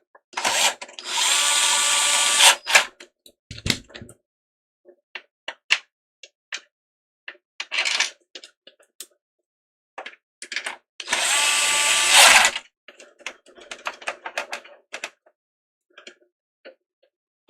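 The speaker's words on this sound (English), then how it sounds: "Fitting the screws back again." A power driver runs screws back into a PS5 console in two loud, close whirring bursts, separated and followed by scattered clicks, taps and handling clatter.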